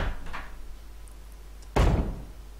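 A door in the Resident Evil HD video game opens with a single solid thunk after a moment of near silence, sounding fairly close, with a faint shuffle before it.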